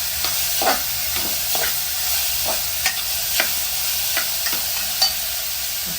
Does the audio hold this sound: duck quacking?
no